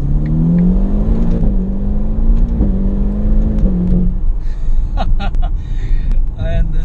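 A Ferrari Portofino's 3.8-litre twin-turbo V8 with a 7-speed F1 gearbox revs loudly and close by for about four seconds, the pitch rising and dipping, before it drops away into scattered lighter mechanical sounds.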